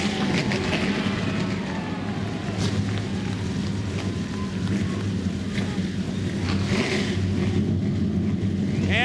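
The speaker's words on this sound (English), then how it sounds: "And the fuel-injected V8s comes to life." Fuel-injected V8 race car engines at an ASA Racing Series event at Salem Speedway roar together in a continuous loud drone that stays steady throughout, with wind buffeting the microphone.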